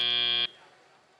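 A loud match-end buzzer at a robotics competition district event in San Diego blasts for about half a second, then cuts off abruptly into quieter arena ambience.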